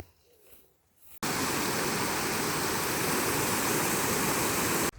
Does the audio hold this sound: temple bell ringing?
no